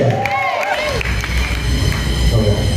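Audience at a church-style gathering in Kenya applauds and cheers a contestant, a steady wash of clapping and crowd noise filling the whole moment, with voices mixed in.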